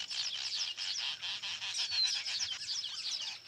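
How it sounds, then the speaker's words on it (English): A colony of weaver birds calls in a dense, continuous chatter of chirps and buzzy notes. The sound is faint and steady, with no voices. "A colony of weaver birds is also busy with its own preparations for the coming season."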